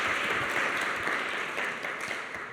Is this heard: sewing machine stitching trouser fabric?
no